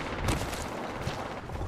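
Rapid gunfire in the battle royale shooter Apex Legends with the character Lifeline, a burst of sharp shots over a noisy battlefield wash, moderately loud and continuous.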